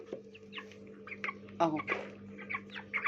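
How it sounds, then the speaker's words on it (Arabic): Chickens cluck and chatter close by in a farm pen, a busy overlapping run of short calls with a couple of louder squawks. "اهو شايفين الفراخ اهي"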